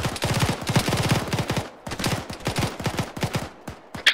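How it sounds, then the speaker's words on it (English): Rapid bursts of gunfire during a military simulation combat exercise in Malaysia, fired in long close automatic strings with brief pauses between them and a sharp single crack near the end. "Juliet, be advised, enemy shots from the east side, get eyes on."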